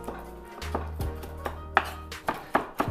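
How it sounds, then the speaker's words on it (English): Knife mincing raw tuna for spicy tuna rolls on a cutting board: irregular close, sharp chopping taps, several in quick succession toward the end, over a low steady kitchen hum. "Kind of just like mincing this up."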